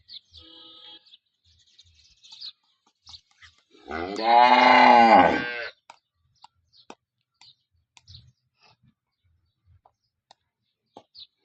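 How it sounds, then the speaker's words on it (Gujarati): A single long, deep moo from a nearby cow in a village in Tharad taluka, Banaskantha district, lasting about two seconds, surrounded by quiet with scattered faint clicks and chirps. "ખાસ કરીને તમે જોઈ લો આ ગાયો બરફેટ બે ગાયો"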